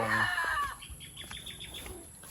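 A broodcock rooster crows once up close, then a flurry of wing flaps and soft clucks follows at moderate loudness.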